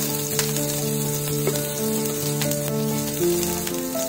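Mustard seeds and green chilies fry in hot oil for Mumbai-style vada pav, a steady crackling sizzle running throughout, with soft background music beneath it.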